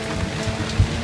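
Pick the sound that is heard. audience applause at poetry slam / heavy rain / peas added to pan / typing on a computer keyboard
heavy rain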